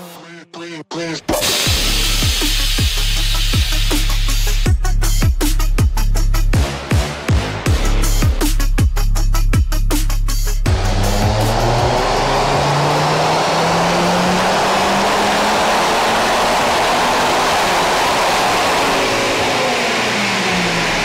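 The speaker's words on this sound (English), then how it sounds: "Car's done its first dyno run." A car making roughly 260 horsepower runs on a dyno, its engine revving hard through a loud, sustained pull with stepped gear changes before the revs drop and it winds down into a long, fading whir.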